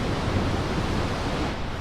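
Vøringsfossen, a 142-metre waterfall near Eidfjord in Norway, roars as a steady, dense wash of noise at the misty, wet base of the falls. The sound stays loud and unbroken throughout, with no voices.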